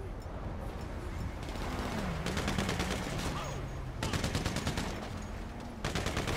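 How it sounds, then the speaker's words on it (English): Bursts of video game gunfire hitting the player, rapid volleys in several clusters over a droning background, fairly loud and close with no talk. "Oh, I'm getting shot."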